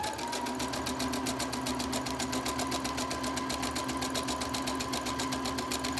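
A sewing machine stitches and backstitches elastic onto a fabric face mask, running steadily and loudly close by with a fast, even mechanical rattle throughout and no speech.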